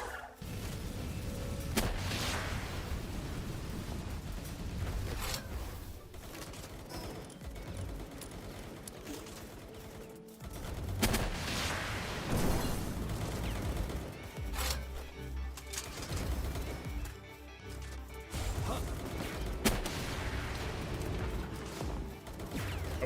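Explosions in the video game Palworld erupt as dense, repeated bursts of booming blasts and crackling fire, continuing at steady loudness across the whole stretch with no talk.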